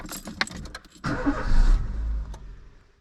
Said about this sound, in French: on va faire tourner pendant 10 minutes la voiture